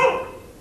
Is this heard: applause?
no